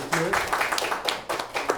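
An audience clapping for a former military guest on a talk show, a short patter of scattered claps mixed with overlapping voices.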